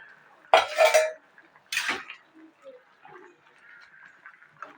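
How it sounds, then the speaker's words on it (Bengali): A metal lid lifted off a cooking pot of boiled green jackfruit, giving two short clattering clanks of metal on metal about a second apart, near and fairly loud, then quiet kitchen background. "এবার আমি ঢাকনাটা খুলে দেখবো এটা সেদ্ধ হয়েছে নাকি"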